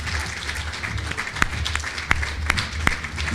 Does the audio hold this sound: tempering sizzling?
no